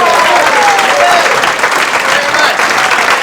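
Comedy club audience in 1987 applausing a comedian onto the stage, loud, dense clapping and crowd noise filling the room continuously, with brief whistles and voices mixed into the ovation.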